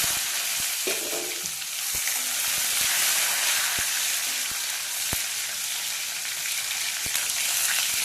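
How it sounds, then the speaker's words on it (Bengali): Tomatoes sizzle loudly in hot oil in a home kitchen pan, a dense continuous frying hiss with scattered sharp pops and clicks from stirring, close and alone with no talk. "টমেটোগুলো ভাজা হয়ে গেছে"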